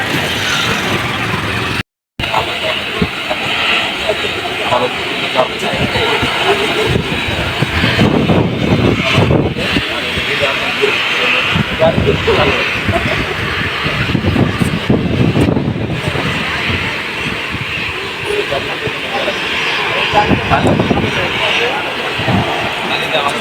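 A Biman Bangladesh Airlines airliner comes in to land at Hazrat Shahjalal International Airport in Dhaka, heard from Uttara as a loud, steady engine roar that runs throughout beneath people talking.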